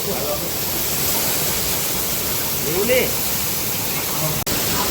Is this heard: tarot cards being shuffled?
no